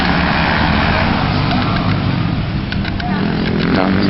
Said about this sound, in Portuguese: Quase tem moto demais pra andar aí.